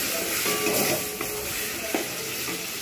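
Ginger garlic paste cooks in a pan with a little oil and a splash of water for a dhaba-style egg tadka, producing a steady, even hiss of steam and sizzle with a couple of faint clinks.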